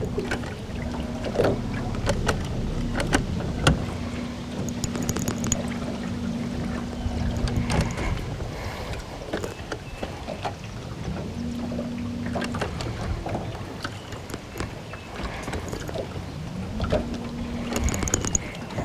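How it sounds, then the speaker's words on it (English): A boat hums steadily across an open lake toward its center, with a low droning motor tone fading in and out over faint wind and water noise. "Bring my boat just a little bit more out to the center of the lake here."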